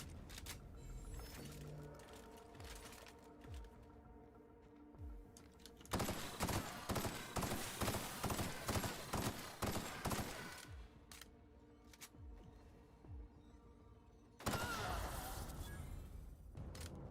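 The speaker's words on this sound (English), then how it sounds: "Oh no, I'm still being shot at." Rapid automatic fire from a heavy weapon in The Outer Worlds rattles in two long bursts, with scattered single shots and mechanical clicks between them. Fairly close and loud.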